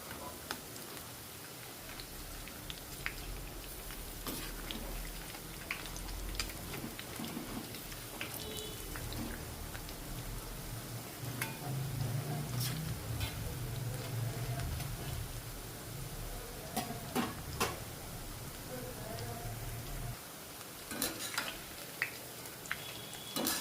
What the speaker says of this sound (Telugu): దీన్ని ఇంకా టర్న్ చేసుకుంటూ వేయించుకోవాలి.